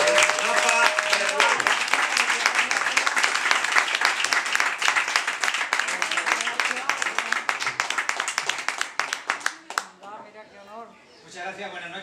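An audience gives warm applause to a magician at a live show, dense loud clapping that thins into scattered claps before a voice comes in at the end.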